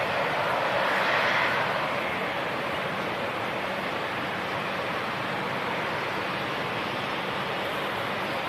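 A British Airways aircraft departing London City Airport produces a loud, broad engine roar that swells early and then holds steady, with no voices heard.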